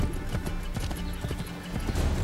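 A stolen horse gallops in Assassin's Creed III, its hooves clip-clopping in a quick, steady rhythm up close, with an occasional snort or whinny over a busy game soundscape.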